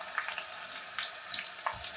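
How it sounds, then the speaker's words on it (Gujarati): Chopped medium onion, cut roughly into large pieces, frying in hot tempering oil for South Indian mango rice: a steady, soft sizzle with faint crackles and spits, close and fairly quiet, with no voices. "ડુંગળીને આપણે થોડી વઘાર સાથે ફ્રાય કરવા દઈશું."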